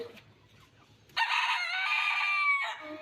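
After a quiet moment, a rooster lets out a single loud, close crow that holds for over a second before cutting off.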